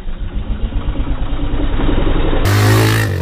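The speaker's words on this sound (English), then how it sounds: "I'm gonna move my bike so we got more room" A motorbike engine runs steadily and loudly up close while the bike is moved, with a rough, throbbing idle that swells slightly near the end.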